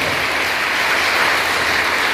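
A crowd at a girls' school International Women's Day event applauds steadily, a dense, even wash of clapping throughout with no voices.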